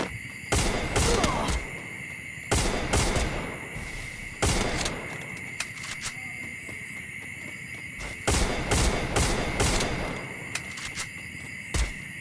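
Gunfire in a shooting video game match comes in rapid bursts of shots, separated by quieter stretches of game ambience, close and fairly loud.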